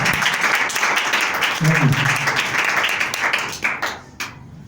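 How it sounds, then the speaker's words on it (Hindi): Applause from a church congregation, a dense wash of many hands clapping that runs steadily and then thins out toward the end, with a voice briefly heard over it. "जोरदार, ये जोरदार नहीं है, तालियां बजाइए, तालियां।"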